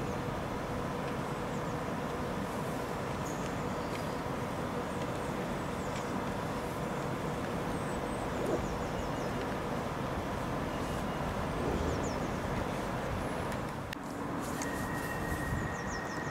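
A London Underground Piccadilly Line train at Cockfosters station rumbles steadily under the train shed, a continuous broad roar of wheels and motors holding level throughout, with a brief high tone near the end.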